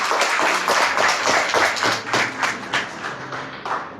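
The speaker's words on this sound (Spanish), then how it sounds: "Les pido por favor un fuerte aplauso" An audience at a 60th-anniversary ceremony for the Doctor Pedro de Alba library in San Juan de los Lagos claps in a dense, steady burst of applause, loud and close throughout.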